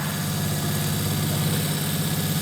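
A permanent magnet DC motor runs at a steady speed on a lab bench, giving a constant low hum with an even whirring drone and no change in pitch or loudness.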